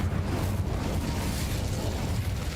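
Incendio fire spell cast in a Harry Potter video game: a dense, roaring whoosh of flame that holds steady and loud for over two seconds, with no voices over it.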